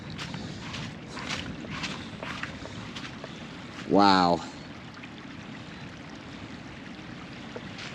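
Broad rushing water across a farm after a hailstorm, a steady wash of floodwater with a brief exclaimed voice partway through, recorded close by outdoors.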